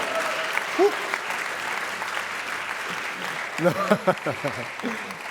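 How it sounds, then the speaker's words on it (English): A small audience claps steadily in the background at a moderate level, while someone talks briefly over the applause toward the end. "No, I forced that applause"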